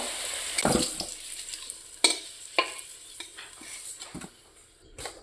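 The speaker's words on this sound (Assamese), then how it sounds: "ইয়াত আলুখিনি ভাজি ল'ম।" Potatoes fry softly in sizzling oil in a pan while a utensil stirs and scrapes, with several sharp clinks and knocks spread across the clip; no one speaks.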